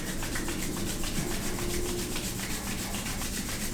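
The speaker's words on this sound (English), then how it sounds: "take your hands together and rub them vigorously to build some heat" Palms rubbed briskly together in a quiet room during a yoga session, a steady dry swishing friction that carries on without a break for a few seconds, close to the microphone.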